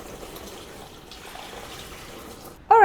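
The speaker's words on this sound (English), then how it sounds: "I'm gonna add water," Water poured into the basket of a cold therapy machine, a continuous splashing, gurgling stream heard up close, ending with a sudden louder knock.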